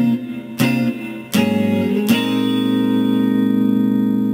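Electric guitar strums sustained chords from a song's progression, a few sharp strikes each ringing out with reverb, played alone.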